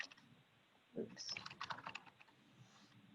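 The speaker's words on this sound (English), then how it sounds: "And as you're typing it," Quiet, rapid keystrokes on a computer keyboard during an online meeting, a soft continuous clatter with faint voices in the background.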